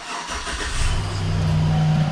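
A GMC V8 engine starts up close by, with the crank catching at about three quarters of a second, then settling into a steady, loud idle with a low rumble and a faint whine.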